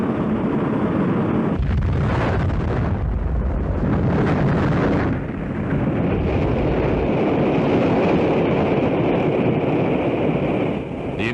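Atlas-Centaur rocket launch ending in a malfunction and explosion: a continuous heavy roar with rumbling bursts and a brief dip midway, sounding distant and muffled, as in old film footage.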